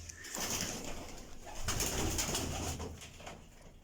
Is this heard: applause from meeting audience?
no